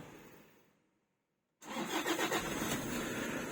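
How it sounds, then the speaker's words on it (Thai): A Toyota Vigo pickup engine cranks and catches after a moment of silence, starting on a newly programmed key and settling into a loud, close, rumbling idle. "ทดสอบระบบสตาร์ทนะครับ"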